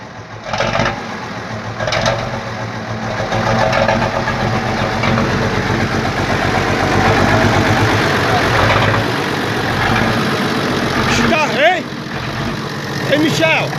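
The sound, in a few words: FNM 180 truck engine idling with straight-through exhaust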